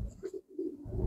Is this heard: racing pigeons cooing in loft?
yes